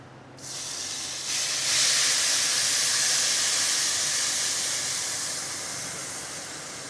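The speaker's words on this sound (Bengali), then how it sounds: "এখন আমার চাল ভাজা শেষ, আমি এখন এর মধ্যে গরম পানি দিয়ে দিব।" Hot water poured onto fried rice for pulao bursts into a loud, sustained steam hiss that swells within the first two seconds and then slowly fades, close and with no talking.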